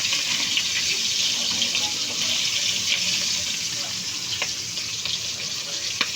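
Milkfish (bangus) sizzling in hot oil, a steady close crackle and hiss with scattered sharp pops throughout, loud and continuous with no talk.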